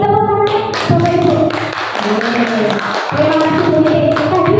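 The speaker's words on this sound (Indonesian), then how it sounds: "tepuk tangannya Bapak Ibu" Applause and clapping from an audience of teachers at a school dissemination session, a dense, loud burst of hand claps running the whole time with voices mixed in.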